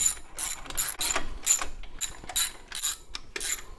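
A ratchet snugs up exhaust bolts on a Model A Ford, giving quick bursts of close, crisp clicking in short uneven strokes with brief pauses between them and no talking.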